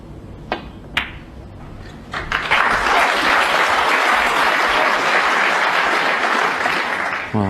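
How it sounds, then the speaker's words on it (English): A packed Crucible auditorium audience at a 2005 World Snooker match, Ronnie O'Sullivan versus Stephen Maguire: a couple of sharp knocks, then a swelling round of applause that holds steady and loud. "packed Crucible auditorium realised that was frame ball, hence the round of applause"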